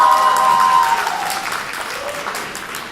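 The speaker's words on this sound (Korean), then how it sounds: "여러분 동의하시면 박수 한번 해주십시오" Applause from party delegates and members at a Daegu–Gyeongbuk regional convention, a steady wash of many hands clapping, loud at first and easing slightly toward the end, with faint voices in the crowd.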